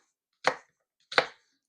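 Two sharp chopping strokes of a knife through an onion on a board, evenly spaced and close by, with silence between them.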